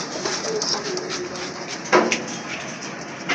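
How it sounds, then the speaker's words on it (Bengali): Pigeons cooing nearby, soft low throaty calls repeating over a faint background hum, with one louder coo partway through. "কবুতর দেখে আমরা ডাক দেয় কিনা, ডাক এমনি প্রচুর ডাকে"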